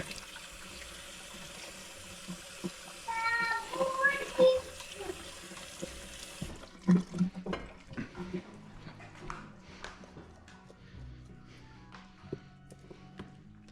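Fresh coriander rinsed under a kitchen sink tap: a soft running-water hiss for several seconds, then irregular splashes and knocks as the herbs are handled, faint and close.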